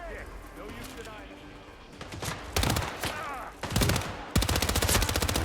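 Gunfire from a weapon in Hitman 3 rattles out in loud bursts of rapid shots, growing denser toward the end, with game ambience and a voice underneath.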